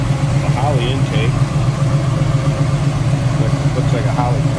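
A 1979 Chevrolet Malibu V8 with Holley carb, HEI ignition and Flowmaster exhaust idles smoothly with a steady low rumble while someone talks over it.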